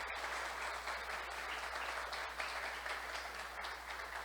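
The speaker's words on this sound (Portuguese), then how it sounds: "Vou pedir uma salva de palmas mais vezes para ela" An audience at a talk on mental health gives steady, moderately distant applause that holds evenly for a few seconds, with a low hum underneath and no speech.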